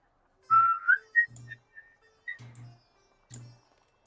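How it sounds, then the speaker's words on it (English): A bosun's whistle call sounds as a sequence of short tones rising and holding at varied pitches, with soft low knocks in between, fairly close and otherwise quiet. "you hear the bosun's whistle call to breakfast"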